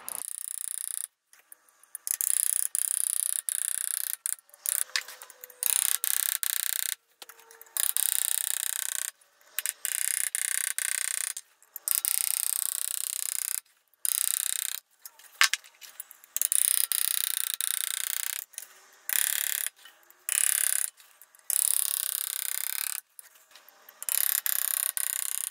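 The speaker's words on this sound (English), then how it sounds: "the first few cuts with the new graver weren't that smooth" An engraving graver cuts a scroll design into metal, giving repeated bursts of fine, scratchy rasping. Each stroke lasts one to two seconds, with short silent gaps between cuts. The sound is close and fairly quiet, with no voices.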